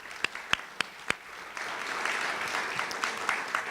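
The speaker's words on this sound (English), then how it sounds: "a round of applause" Guests at a formal dinner applaud the staff; a few sharp, isolated claps come first, then a fuller, steady round of applause builds and continues to the end.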